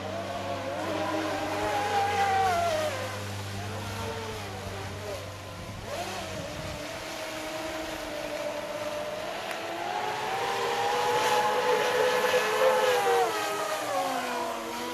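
RC boat with a Leopard 5692 730 kV electric motor and 63mm propellers, a steady whining motor tone that rises and falls as it runs and turns on the water, with faint voices nearby.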